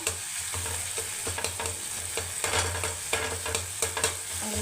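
Tomatoes are pressed and broken up with a utensil while stir-frying in a pan, repeated tapping and scraping jabs over a continuous close sizzle.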